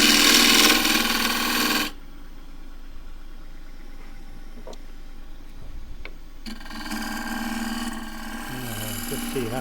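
A lathe gouge cuts quilted tiger myrtle wood on a spinning blank with a steady, grinding hiss under the motor's drone, with louder stretches at the start and end.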